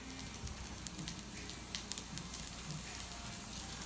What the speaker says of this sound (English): we want to take the sausage and place it in the skillet